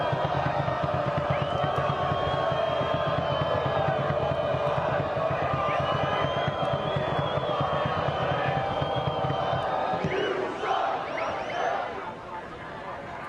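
A stadium crowd at a Maryland men's college soccer match against New Hampshire roars and cheers in a steady wash of noise that fades toward the end, with a commentator talking over it.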